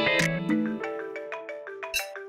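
A phone rings with a bright electronic melody of short repeating tones, close and clear, with no one talking over it.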